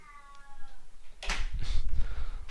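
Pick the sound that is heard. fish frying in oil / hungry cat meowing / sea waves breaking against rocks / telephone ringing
hungry cat meowing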